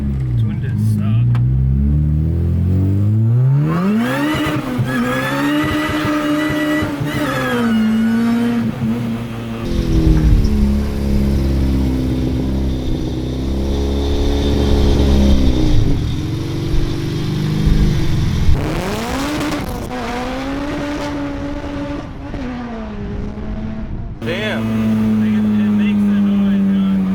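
A Honda Civic EK9 Type R engine revving hard from inside the car, rising through the gears with sharp shifts and a loud, aggressive intake howl that drops and climbs again, with people talking over it.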